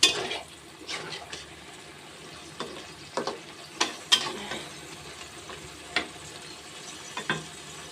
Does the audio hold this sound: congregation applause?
no